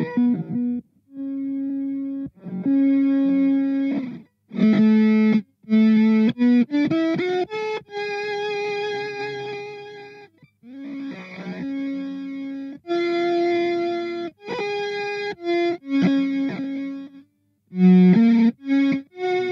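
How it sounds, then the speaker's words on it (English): Electric guitar played through a Line 6 FM-4 Filter Modeler pedal, its filter effect pitched over a two-octave range, giving short bursts of distorted, synth-like notes and chords separated by brief gaps, loud and upfront with no talking. "the mode controls the pitch of the effect over the 2-octave range"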